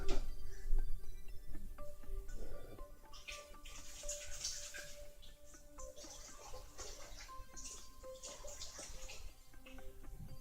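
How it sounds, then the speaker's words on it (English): Running tap water splashes steadily as dirty hands are washed beneath it, with irregular sloshing and dripping over a constant low hum. "I'm gonna go wash my hands now because they're like really dirty"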